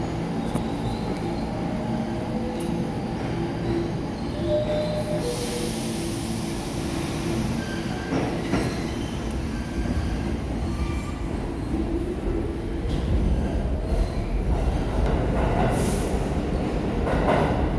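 A southbound New York City W subway train rumbles past steadily and loudly, with wheel noise, rattling and occasional high squeals throughout.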